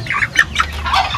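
Chickens in an enclosure cluck in several quick, close, overlapping bursts, alone with no talk.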